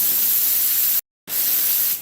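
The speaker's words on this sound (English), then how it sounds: "when you spray contact cement, you can get cobwebs that dries in the air" A spray gun hisses out contact cement in a workshop as a steady, loud spray, cutting off briefly for a moment before resuming and then fading slightly at the end.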